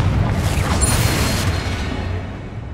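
A Confringo fire spell explodes in Hogwarts Legacy, a loud, close burst with a whooshing rush that rumbles on and fades over a couple of seconds, with no talking.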